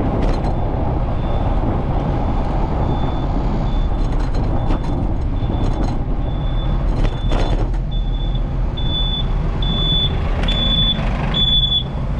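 A school bus moves through city traffic at Uphams Corner in Dorchester, Boston, heard from a bicycle: a loud, steady engine rumble with a string of high beeps repeating toward the end.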